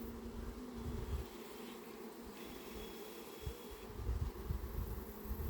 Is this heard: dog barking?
no